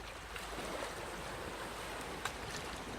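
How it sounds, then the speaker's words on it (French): Ocean waves wash steadily against a rocky shore under a constant rush of wind, with a continuous broad surf roar at low-to-moderate level and no distinct breaks. "Vous entendez beaucoup plus le bruit des vagues que le bruit du vent."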